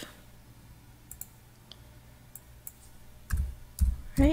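Computer mouse clicks, a few faint sharp ticks spread out through the clip, then three louder thumps near the end.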